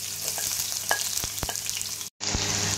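Chopped onions sauté in hot cooking oil for a simple Filipino eggplant dish, giving a loud, steady close-up sizzle with stirring clatter and one brief cut in the sound, no voices.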